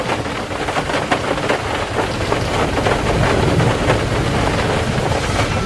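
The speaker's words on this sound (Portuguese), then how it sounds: "trovões, inundações, relâmpagos e chuvas de saraiva." Steady heavy rain with gusty wind buffeting, a dense continuous roar throughout with no voices, in a radio drama storm scene.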